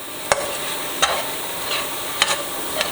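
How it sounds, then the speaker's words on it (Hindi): Chicken lasagna filling seasoned with salt is stirred in a pan, with four distinct spoon scrapes at uneven intervals over a faint, steady sizzle. "अभी इसको अच्छे से मिक्स करेंगे।"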